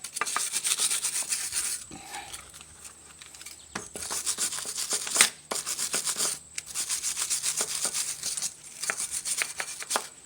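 Rust is scrubbed off the front brake rotor of a 2010 Kia Soul in bursts of close, harsh rasping strokes, pausing briefly between runs.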